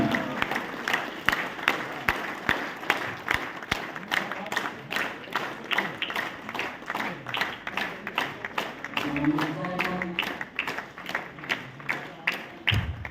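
An audience claps in welcome for Mr Manoj Singh Chauhan at an event in Puri, Odisha: scattered, moderately loud hand claps with sharp individual slaps, crowd murmur and some talk mixed in.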